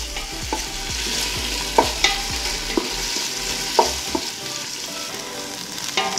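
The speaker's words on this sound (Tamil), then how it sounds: "ஒரு 2 நிமிஷம் வதங்கட்டும் வெங்காயம். வெங்காயம் வந்து பொன் கலராக வதங்கணும்" Sliced onion and a slit green chili sauté in hot oil in a pan for chicken biryani, with a steady close sizzle and repeated scraping stirs from a spoon against the pan, and no voices.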